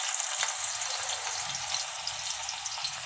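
Onions sizzling steadily in hot oil in a pan while cooking a capsicum curry, a continuous bright crackling hiss with no talk.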